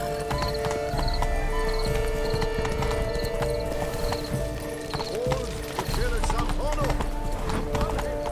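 Horse hooves clip-clop in a steady rhythm in the Witcher 3: Blood and Wine video game, fairly close and continuous, mixed with game music and occasional horse whinnies while characters talk over them.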